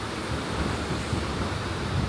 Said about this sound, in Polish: Duże fale jak zwykle.